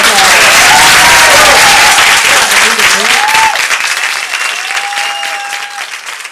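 Loud audience applause fills a school board of education meeting on a mask policy vote, dense clapping with some voices in the room, slowly thinning toward the end.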